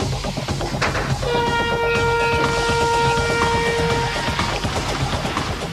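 A roller coaster train roars steadily along its track on a test run, with a sustained metallic screech rising over the rumble for a few seconds.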